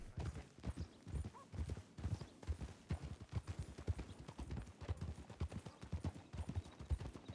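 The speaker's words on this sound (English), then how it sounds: "Your aggressive horse riding is, it can be a very large problem, sir." A horse's hooves clip-clop in a quick, regular rhythm while ridden aggressively in Red Dead Redemption 2, fairly close and moderately loud, with no speech over it.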